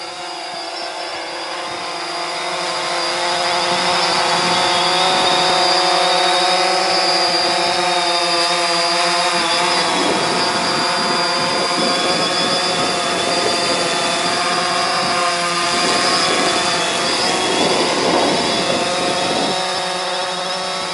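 A DJI Phantom 3 drone hovers about a metre off the ground, giving a loud, steady motor-and-propeller whine. The whine swells slightly early on, then holds level and unbroken for the whole stretch, with no voices.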